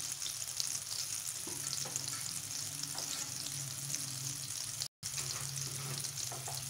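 Potatoes frying for a mixed vegetable dish give a steady, close sizzle that runs on without a break, with a faint trickle of tap water in the background and no voices.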